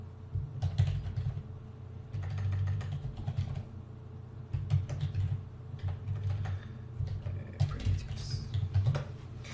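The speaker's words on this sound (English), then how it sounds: "just hit delete in your keyboard" Computer keyboard keys clatter in quick bursts of typing, several clusters of crisp clicks separated by short pauses, close and fairly soft with no talking over them.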